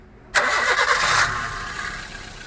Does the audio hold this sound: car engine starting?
yes